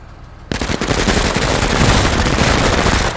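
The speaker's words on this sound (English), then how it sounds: "We'll just hit him with the suppressive SMGs again." Suppressive SMG fire in the MENACE tactical video game bursts in after a quiet half-second, a loud, dense rattle of rapid automatic shots that keeps going almost to the end.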